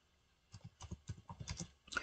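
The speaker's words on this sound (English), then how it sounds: "you go here and type in" Typing on a computer keyboard, a quick run of soft, close key clicks in an uneven rhythm that starts after a brief silence.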